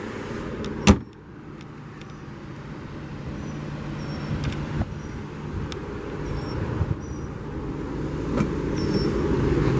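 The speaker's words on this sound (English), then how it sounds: "Bring the automatic driver's side window back up." Driver's side automatic power window closing on a 2002 Lexus SC430, a faint steady motor whir rising gradually after a sharp click at the start, with small ticks along the way and no talking.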